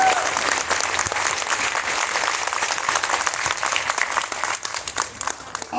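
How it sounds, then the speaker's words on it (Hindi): Sustained applause from a live audience at a Hindi poetry or song recital, dense steady clapping throughout, close and full, thinning slightly toward the end. "वह जोर से बजाइए, ताली थोड़ा मन लगे।"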